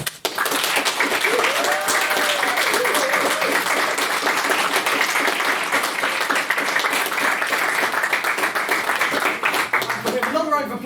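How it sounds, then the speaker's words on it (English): Debate audience applauding after a speech, a dense, even wash of clapping that holds for about ten seconds before fading as a voice starts to talk. "Another round of applause for what was Miss Boyle's maiden speech."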